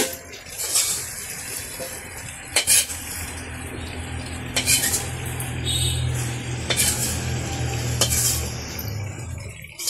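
Bitter gourd frying with onion and turmeric in a pan, a steady low sizzle running throughout, broken by several sharp metallic scrapes and clinks of a spatula or utensil against the pan.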